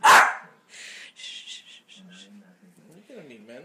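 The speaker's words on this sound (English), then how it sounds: "Hey, stop barking." A dog barks excitedly indoors: one loud close bark at the start, then a run of short yips and whimpering whines, with a person talking softly over the dog.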